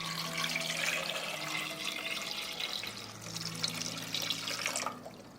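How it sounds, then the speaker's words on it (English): Water runs into a deep pan of room-temperature eggs, a steady splashing pour that gurgles and softens as the pan fills, then stops near the end. The sound is quiet and close, with no talk. "Then I will pour water into the pan to cover the eggs."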